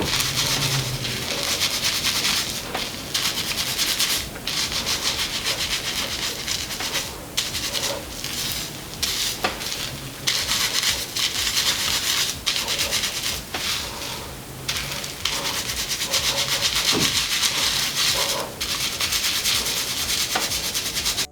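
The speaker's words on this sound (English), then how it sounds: "I took both my hands and then just massaged the entire thing together, trying to get my fingers down to my scalp" Fingertips scrub an exfoliating scrub into natural hair and scalp, a close, steady rasping rub that continues throughout with brief changes in pressure.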